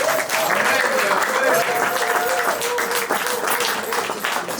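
A crowd at a 50th birthday party in Geneva applauds and cheers a man in a loud, sustained wash of clapping, with a voice speaking over it throughout.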